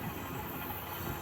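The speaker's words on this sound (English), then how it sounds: "Okay, everybody, second train of the day. Roll it. Here we go, boys. CSX mixed freight." A CSX mixed freight train rolls past as a steady, dense rumble and rail noise with faint wheel hiss and clatter, continuous and fairly distant, with no voices.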